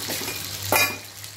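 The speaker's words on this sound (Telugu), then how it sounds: "ఇది ఇలాగే కొంచెం ఫ్రై కావాలి" Pomfret fish frying in oil in a pan, a steady close sizzle with a brief brighter burst of crackle in the middle.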